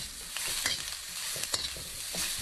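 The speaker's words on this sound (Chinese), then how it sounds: "把辣椒炒得微微发黏，加上蒜子一起炒香" Chili peppers and garlic stir-fried in a hot wok, a steady oily sizzle broken by scraping, clattering spatula strokes, fairly close and quiet, with no talking.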